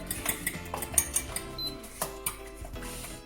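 Metal pan being set down and handled for Chinese fried rice, with a run of light clattering knocks and scrapes against cookware, close and fairly quiet.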